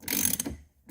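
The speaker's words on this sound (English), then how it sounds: "you can put your ratchet on there, and you can go ahead and ratchet it off" A ratchet clicks in a quick close burst while loosening the steering wheel bolt on a 2014-19 Chevrolet Corvette C7, then falls silent before one faint trailing noise.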